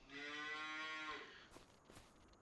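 A single long, deep moo from cattle on a farm in Farming Simulator 25 rings out clearly and alone, followed by faint rustling.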